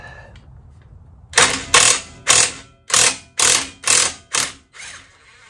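Impact wrench spinning out brake caliper bolts on a Subaru Sambar, eight loud rattling bursts in quick succession, each about half a second, over a quiet background.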